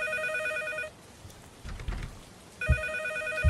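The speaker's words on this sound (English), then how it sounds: "Where's the phone? It sounds like it's like right here." An old-style telephone bell rings in a horror video game, a loud bright trill that stops, leaves a pause with soft rumbling footsteps, then rings again.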